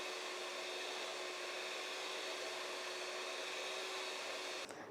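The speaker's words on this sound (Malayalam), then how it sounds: "ഇപ്പോൾ ഒരു ബൗളിലോട്ട് 125 ഗ്രാം ബട്ടർ ഇട്ട് കൊടുത്തിട്ടുണ്ട്. ആദ്യമേ ഒന്ന് ബീറ്റ് ചെയ്യാം." An electric hand mixer beats 125 g of room-temperature unsalted butter in a bowl, a steady, even motor whir held for the whole stretch with no talk, ending in a brief clatter.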